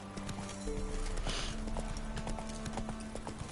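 Hooves of Roach, the horse in The Witcher game, clip-clopping in a steady trotting rhythm, close and clear, with a brief whinny-like burst partway through.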